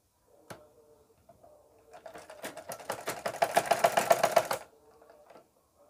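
Close by, a sewing machine stitches a kameez in one short burst of rapid needle strokes lasting about two and a half seconds, with faint handling noises before and after.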